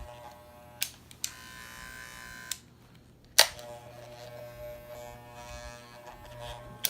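Walmart precision electric hair clippers run with a steady buzzing hum, switched on and off a few times with clicks, the motor tone shifting slightly between runs.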